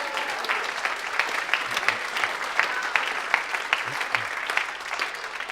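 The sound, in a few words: applause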